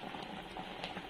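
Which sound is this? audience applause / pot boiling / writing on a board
pot boiling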